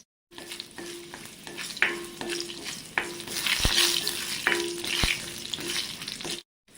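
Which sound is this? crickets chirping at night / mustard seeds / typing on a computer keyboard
mustard seeds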